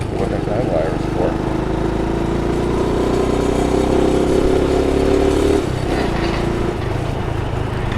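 A motorcycle rides at speed through New York City streets, its steady engine drone and wind noise continuous and close, rising slightly in pitch before settling back.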